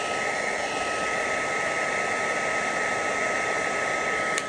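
A Makita 18V cordless heat gun fitted with its small nozzle runs steadily, a loud, even airy hiss close by with no break and no voices.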